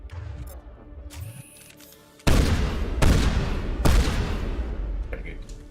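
Shotgun blasts in the Mass Effect game: three heavy, booming shots about a second apart, each with a short roaring decay, following quieter game sounds and brief talk.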